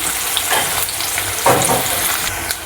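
Long-sliced onions sizzle loudly in hot oil in a pan, a close, dense crackling fry with brief swells as they are stirred around.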